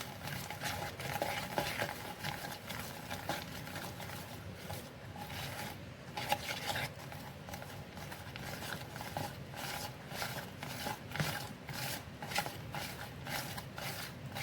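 A hand beater churns cream into homemade butter in a bowl, giving a steady wet whirring and sloshing that carries on without a break, with faint metallic clatter mixed in.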